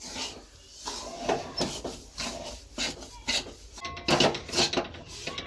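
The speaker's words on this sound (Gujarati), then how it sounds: "હવે આપણે આદુ માવો અને રવો એ ત્રણેયને સરખી રીતે મિક્સ કરી દઈશું." A ginger, khoya and semolina mixture for ginger pak is stirred in a pan, making soft, repeated scraping and rubbing strokes at an uneven rhythm, close by and without speech.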